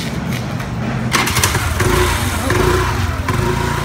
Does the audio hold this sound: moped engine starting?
yes